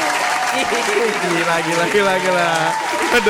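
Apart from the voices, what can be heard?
applause going on too long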